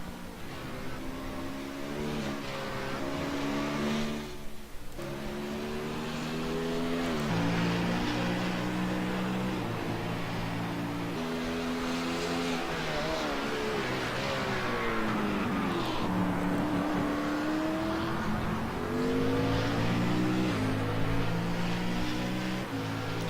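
Race cars roar past one after another during a live race, with engine notes rising and falling and overlapping continuously at steady loudness.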